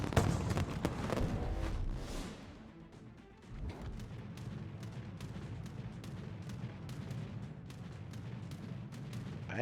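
Battleship guns firing in a naval video game, heavy booms and a series of sharp cracking reports spaced irregularly over a rumbling background, with a deep blast early on.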